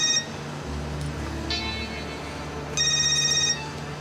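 A telephone rings in a dramatic indoor scene, the electronic bell sounding in two clear bursts separated by a pause, loud and close over a low steady hum.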